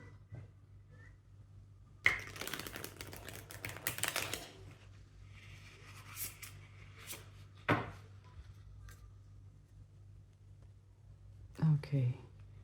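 Cards being shuffled in quick riffling bursts with light taps, a voice talking softly in between.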